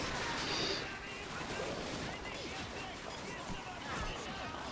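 Tank gunfire in the World War II game Call of Duty 2, heard as a continuous rumbling barrage of shots and blasts that stays dense and fairly steady for the whole stretch.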